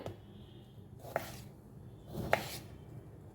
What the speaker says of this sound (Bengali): আমি পাতলা পাতলা করে কেটে নিলাম যেরকম করে মাছের আলু কাটে আর কি এরকম করে